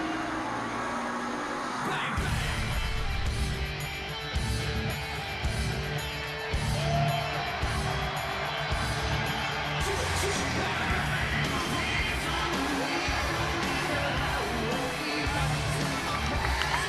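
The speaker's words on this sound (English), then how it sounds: "Crowd reactions for challenger and champion, very intriguing as well." Wrestling arena crowd at a steel-cage pay-per-view event roaring and yelling in reaction to the challenger and champion, a broad sustained rumble of many voices with swells and cheers, heard under a commentator's voice.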